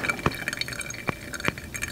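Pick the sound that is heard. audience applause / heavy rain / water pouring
water pouring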